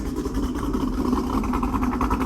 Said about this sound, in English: It idles a little better now.